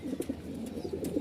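Pigeons coo softly in repeated low throaty pulses at a pigeon market in Mirpur, close by and moderately quiet, with a brisk uneven rhythm and no talking.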